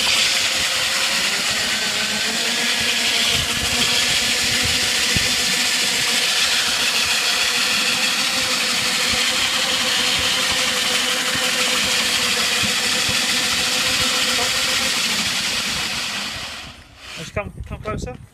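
A wooden dummy spins on a lathe in a workshop, giving a steady loud mechanical whir with a constant hum that holds for many seconds, then winds down and stops near the end.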